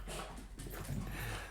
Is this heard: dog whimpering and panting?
yes